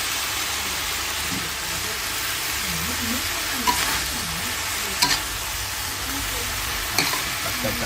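Food is stir-fried in a pan, giving a steady close sizzle throughout, with a few sharp scrapes and clacks of the stirring utensil and a faint voice in the background.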